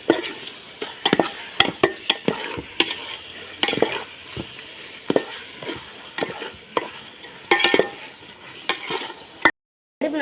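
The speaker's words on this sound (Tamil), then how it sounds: "சிக்கன் இப்போ கொதிச்சிட்டு இருக்கு." Metal scraping and clattering in a pot as chicken biryani is stirred over a strong flame, with a steady sizzle underneath. The stirring comes in frequent bursts, close and moderately loud.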